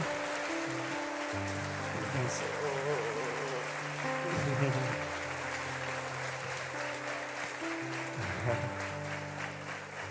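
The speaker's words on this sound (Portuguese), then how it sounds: "Vamos aplaudir Jesus pela vida deles." Congregation applauding at a Christmas church service, a steady wash of clapping that runs throughout, with tonal music or singing layered underneath.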